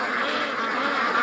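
Ducks racing down toward a lake, a dense burst of overlapping loud quacking close by, no talk.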